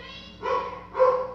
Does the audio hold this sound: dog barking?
yes